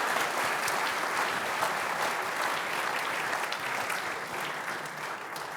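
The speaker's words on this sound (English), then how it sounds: "Round of applause" An audience at a sustainability investment forum applauds after a presentation, a steady, even wash of many hands clapping throughout, fairly close and continuous with no voices over it.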